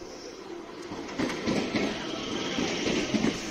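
Onboard a moving local train in West Bengal bound for Bardhaman, a steady rolling rumble with rhythmic clickety-clack of wheels over rail joints, growing slightly louder partway through, no talk.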